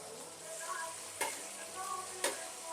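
Two very ripe tomatoes fry and sizzle in a pan while being stirred, with a steady hiss and two sharp scraping clatters from the stirring.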